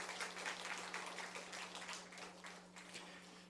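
A church congregation applauds its Easter Sunday combined choir, a steady patter of many hands clapping that slowly fades as it trails off.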